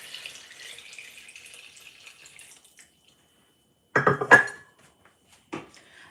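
Water poured into a cooking pot while making a local lunch: a soft, steady splashing stream for a few seconds, then a short silence and a couple of brief, louder sloshing bursts nearby.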